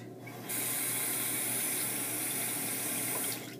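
Tap water runs steadily into a sink to rinse off a bottle, a constant close splashing rush that starts abruptly and stops near the end.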